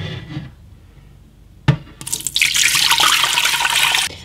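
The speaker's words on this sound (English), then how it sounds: "you're going to fill it up to the water fill line" Water from a tap splashes steadily into a Fresh Tech canning system, a loud continuous rushing fill preceded by quieter handling and a sharp knock.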